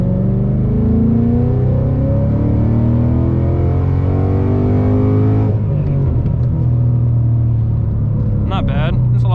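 A car running on E85 fuel accelerates at wide-open throttle in third gear, its engine note climbing steadily as revs rise, loud and close from the cabin, then the pitch drops sharply partway through as the throttle lifts, with brief talk near the end.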